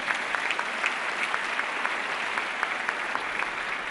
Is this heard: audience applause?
yes